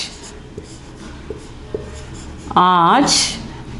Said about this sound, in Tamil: இப்போ நான் இதில் எழுதுகிறேன்